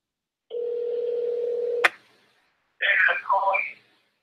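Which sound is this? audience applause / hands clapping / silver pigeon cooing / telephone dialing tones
telephone dialing tones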